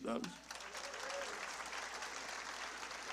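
A church congregation bursts into loud, sustained applause right after a single spoken word, the clapping dense and steady through to the end.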